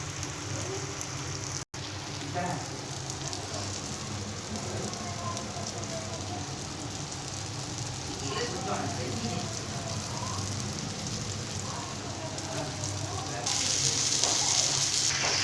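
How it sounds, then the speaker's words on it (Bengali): Chicken frying in masala in a pan, a continuous crackling sizzle like rain that swells louder near the end, heard up close under occasional speech. "এবার চিকেনটা দিয়ে দেবো, দিয়ে বেশ কিছুক্ষণ ধরে ভালো করে ভাজা করে নেবো"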